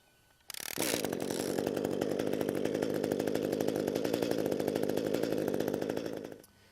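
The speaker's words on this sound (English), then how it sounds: "our gas hedge trimmer should fire on the first or second pull" An ECHO gas hedge trimmer fires up after a pull, its two-stroke engine buzzing loud and steady for around six seconds before cutting off.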